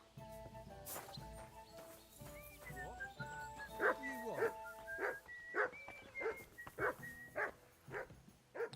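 Dog barking in Kingdom Come: Deliverance 2, a run of repeated sharp barks in the second half, fairly close, over game music and ambient tones.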